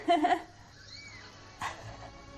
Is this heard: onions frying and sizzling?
no